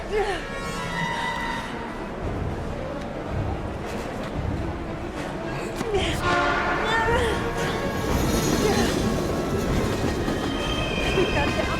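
Train passing in the video game Heavy Rain, a loud rumbling rolling stock with squealing wheels and rattling, continuous and close, with a surge midway; voices are heard over it.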